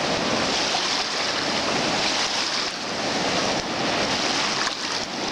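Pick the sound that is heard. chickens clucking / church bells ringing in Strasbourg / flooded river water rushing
flooded river water rushing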